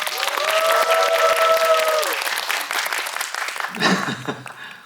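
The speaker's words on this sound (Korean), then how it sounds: "큰 박수 한번 부탁드리겠습니다" A cinema audience claps steadily in loud, sustained applause that tapers off, with a brief voice at the end.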